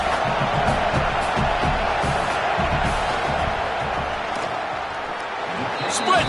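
Steady roar of a stadium crowd in a college football video game as the field goal unit lines up, a broad continuous din with faint cheering swells and a brief louder burst near the end.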